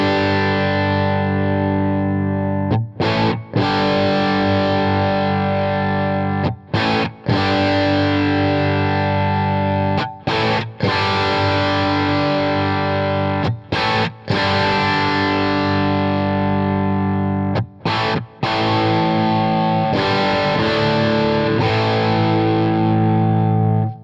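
Distorted electric guitar played through a Jackson Audio Prism pedal, thick sustained chords and riffs ringing loud and close, broken by a few brief pauses between phrases, with no voice over it.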